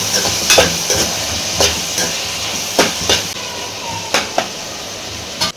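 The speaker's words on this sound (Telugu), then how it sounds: "ఇప్పుడు ఆనియన్స్ని ఈ విధంగా సన్నగా కట్ చేసి వేసుకోవాలి" Thinly sliced onions, salted, fry in a pan with a steady sizzle, while a spoon or spatula scrapes and stirs them in a handful of sharp, separate strokes, close and fairly loud.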